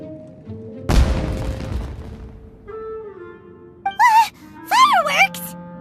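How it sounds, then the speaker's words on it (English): A single loud firework boom in the video game Genshin Impact bursts out and fades over a second or so, followed by quieter game tones and rising musical chirps. "Was that an explosion? It sounded like fireworks."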